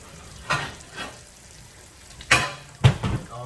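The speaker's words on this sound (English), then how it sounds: "Once I pan sear it on this side" Porterhouse steak sears in a hot pan. A low sizzle runs underneath while several sharp scraping bursts and clanks from handling the meat and pan punctuate it, the loudest coming near the end, with no talking.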